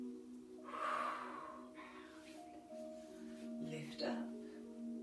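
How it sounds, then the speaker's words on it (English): A slow, deep inhale through the nose during a morning stretching routine, soft and close, with faint voice-like tones and room noise around it. "Breathe in."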